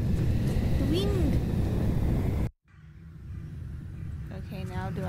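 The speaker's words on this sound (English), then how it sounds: "The wind!" Wind from The Last Door video game sweeps steadily through the scene, a broad rushing layer that cuts out abruptly, then swells back in with a voice talking over it.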